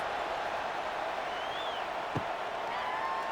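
A stadium crowd in EA College Football 26 roars in a steady, dense wash of cheering and applause at a kickoff, holding constant throughout with one brief thump partway through.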